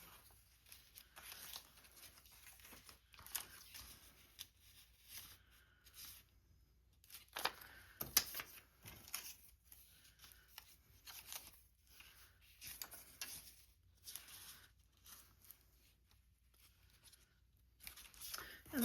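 Scissors snip through a paper book page in a quiet room, a faint run of short crisp cuts and rustles with brief pauses between strokes.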